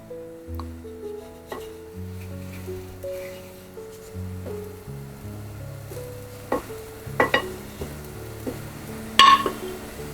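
Paneer paratha roasting on a griddle with ghee, a quiet sizzle under low tonal hum, with soft scraping and a few sharp clinks of a utensil against the pan toward the end.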